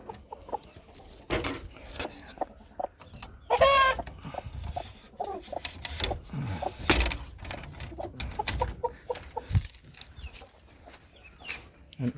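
Broody hens clucking inside a coop, scattered close clucks and soft calls over a quiet background, with rustling and occasional thumps between them.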